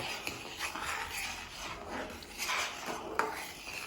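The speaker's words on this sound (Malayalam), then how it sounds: "എന്നിട്ട് നല്ലപോലെ ഇളക്കി കൊടുക്കുക" A spoon stirs milk and 250 grams of sugar in a pan, scraping and rasping against the metal in close, steady, uneven strokes with occasional light clinks.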